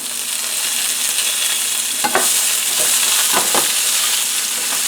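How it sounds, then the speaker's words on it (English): Macaroni is stirred in a pot for a one-pot baked ziti, a steady sizzling hiss broken by several scraping strokes of the spoon partway through. "Gonna stir that macaroni"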